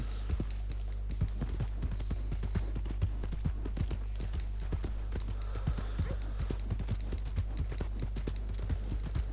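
Horse hooves clip-clopping in a steady rhythmic gait while riding in Red Dead Redemption 2, close and continuous over a low game ambience.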